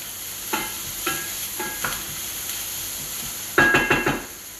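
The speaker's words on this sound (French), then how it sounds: "On remue un petit peu." Carrots sizzling in a pan for a vegetarian bolognese: a steady frying hiss with a handful of close utensil scrapes and taps as they are stirred, a louder cluster of stirring near the end.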